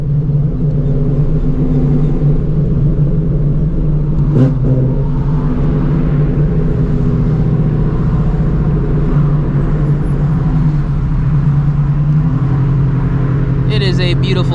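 Steady low rumble of an 800-horsepower Shelby GT350 engine while driving, a continuous close drone with no revving spikes, heard from inside the car.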